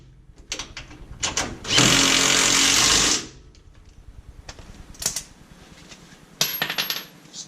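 A power tool runs down the body mount bolts on a Chevy truck, set low and then torqued: one harsh, whirring burst of about a second and a half, bracketed by small metallic clanks and taps in a quiet shop.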